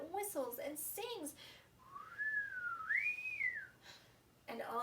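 A voice whistles a smooth rising and falling tune that imitates a spinning pinwheel singing in the wind, alone and fairly clear, with brief talk before and after.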